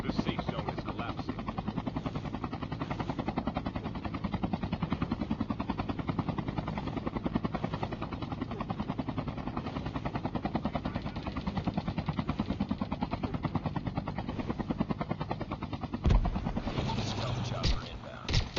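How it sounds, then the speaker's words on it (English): A helicopter flies overhead in the Call of Duty Mobile battle royale, a continuous dense rotor thump and engine roar held steady throughout, with a sharp burst near the end. "Stealth chopper inbound."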